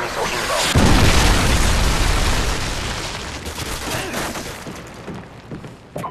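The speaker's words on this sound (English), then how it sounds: "Predator missile inbound." Predator missile strike in the Modern Warfare 2 video game: a loud, heavy explosion boom hits near the start, followed by a long rumbling, crackling decay with scattered debris pops.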